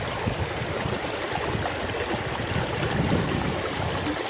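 Water rushes steadily through a gold sluice outdoors, a continuous gurgling, splashing flow heard up close without talk.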